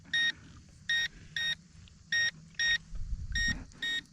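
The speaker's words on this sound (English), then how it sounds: "So the low voltage alarm works." An RC boat's low-voltage alarm sounds seven short, shrill electronic beeps at roughly half-second intervals over a low background rumble, loud and close.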